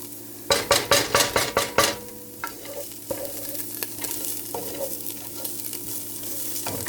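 A spoon stirs okra soup with shrimp in a pot, opening with a quick run of about six sharp scraping strokes, then lighter scattered clinks and scrapes over a steady low simmer and hum.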